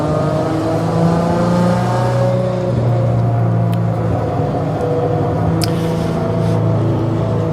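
Drift car engine revving hard, a loud sustained whine that holds steady, dips, then climbs again as the throttle is worked through a corner, with a constant close roar.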